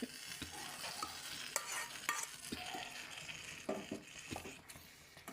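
Fried potato and brinjal being stirred through masala in a pan, with a steady scraping stir over soft continuous sizzling, close and moderately loud, with no voices.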